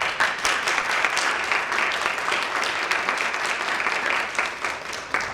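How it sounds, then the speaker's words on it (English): A room full of higher-education professionals and students at a panel event breaks into steady applause, dense clapping continuing evenly and fairly loud throughout. "let's give her a round of applause"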